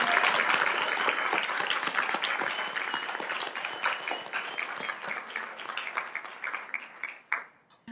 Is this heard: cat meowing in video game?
no